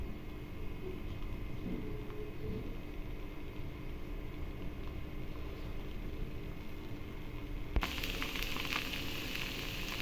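Corn dosa fries in oil on a flat pan with an even, steady sizzle close up. The sound grows brighter and louder near the end after a small clack, with no one speaking.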